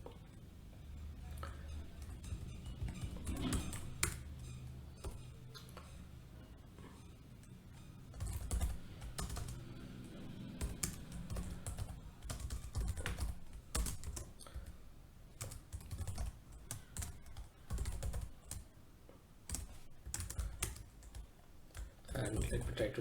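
Steady typing on a computer keyboard while writing a Python program, with rapid, fairly faint key clicks running throughout and a voice speaking over them at times.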